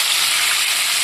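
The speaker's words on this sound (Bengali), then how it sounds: "এবার দিয়ে দিচ্ছি দুটো পেঁয়াজ চপ করে রেখেছি।" Chopped onions fry in a hot pan with whole garam masala, making a loud, dense sizzle across the brief moment with no voices.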